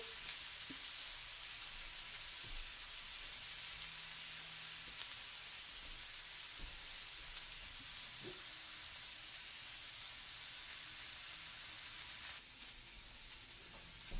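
A ribeye steak sizzles steadily in a hot pan, a continuous close frying hiss with faint crackles running the whole time and no talking over it.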